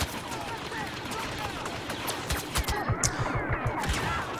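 Blaster fire from the Star Wars Battlefront beta, with rebel troops firing blue shots: a dense, continuous battlefield clatter of rapid shots, with a burst of louder close cracks near the end and a voice talking over it.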